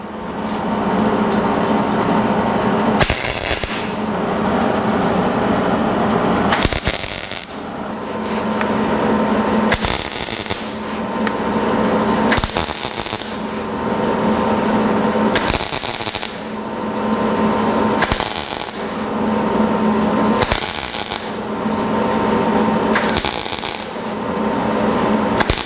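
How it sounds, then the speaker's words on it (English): Repeated tack welds on a steel switch pedestal panel for a 1949 Chevrolet gasser, sharp crackling bursts of a few seconds each, about eight in all, separated by quieter pauses. "So now we're going to attempt to weld it together."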